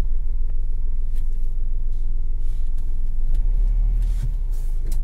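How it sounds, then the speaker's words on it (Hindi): A Hyundai i10 is driven on the road after a clutch replacement, its engine giving a steady low rumble from inside the cabin with slight revving and a few knocks from the road. "ये हमारी गाड़ी ड्राइव हो रही है।"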